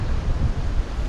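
Wind blowing on the Moroccan coast near Oualidia, a continuous low roar buffeting the microphone, steady and loud with no voices.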